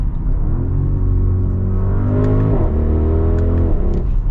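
A 2021 Audi RS Q8 accelerates hard, its loud, close engine roar rising steadily in pitch with a quick dip at a gear change, over a constant deep rumble.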